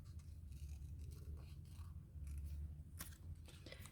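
Scissors snip through paper for a vintage Christmas collage book, with quiet, close cuts and scraping that repeat over a low background hum, and a crisper snip near the end.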